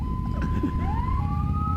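An American-style ambulance siren tone rises and holds steady, sounding fairly close over a low rumbling background.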